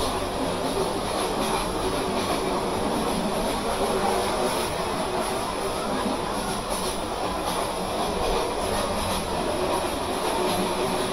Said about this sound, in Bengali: পিওর ট্র্যাক নয়েজটা শুনেন।